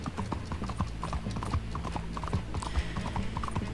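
Horse hooves clip-clop in the Red Dead Online video game, a quick, even, close rhythm of hoof strikes that carries on without pause.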